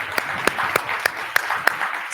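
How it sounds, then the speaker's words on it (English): Conference audience applause at a sustainable development policy session, a steady wash of many hands with a few sharper individual claps, fairly close, briefly over a faint voice. "So let's do a round of applause for the folks that are here."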